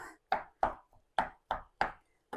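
Boiled mushrooms sliced with a knife on a board, giving six clear, close chopping knocks at an uneven rhythm with short silent pauses between them.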